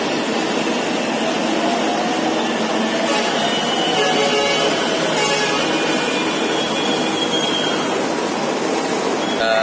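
Steady, loud rumbling roar inside a moving metro train in Wuhan, continuous rolling noise with no pauses.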